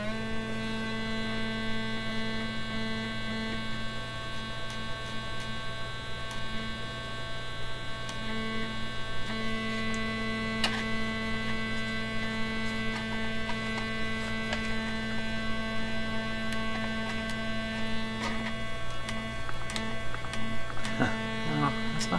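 A square wave tone plays through the speaker of an old Canadian Marconi Model 93 radio: a steady, buzzy, harmonically rich drone with low hum underneath, holding unbroken for over twenty seconds with a few faint clicks.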